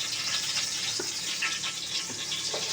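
Cumin seeds sizzle in hot ghee as a tempering for khichuri, a steady bright frying hiss with small pops and crackles. It runs close and continuous, with no voices.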